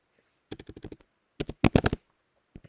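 Keys on a Mac computer keyboard clack in two quick bursts of close, crisp taps, with a couple of isolated keystrokes afterward and quiet gaps between.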